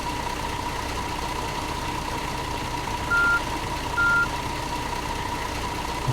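Reversing beeps from a coach bus in Fernbus Coach Simulator sound as a steady repeating tone over an idling diesel engine hum, fairly quiet and continuous.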